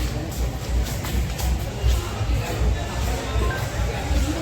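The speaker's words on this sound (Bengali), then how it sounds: "শুধু ভিড় চারিদিকে।" A dense crowd mills about at the Basanta Utsav spring festival in Santiniketan, a continuous hubbub of overlapping voices and shuffling footsteps close around.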